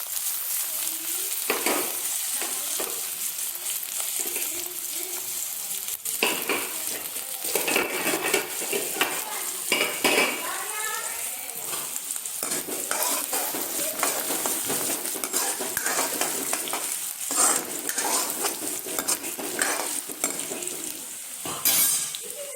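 Ginger and garlic fry in a hot pan for tomato sauce, with a steady close sizzle throughout and frequent scraping, stirring clinks of a spoon against the metal pan, no talking.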